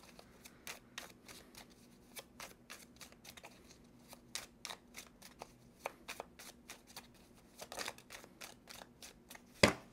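Tarot cards are shuffled and drawn in a quiet room, giving a string of quick, crisp riffles and slaps at an uneven rhythm, close and soft, with a sharper snap at the end.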